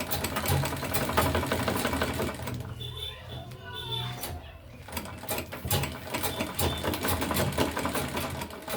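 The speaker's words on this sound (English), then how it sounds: "just use a normal foot and sew it" A sewing machine stitches a tote bag with a normal presser foot, a steady close mechanical whir that briefly pauses midway before running on again, with a voice speaking over it.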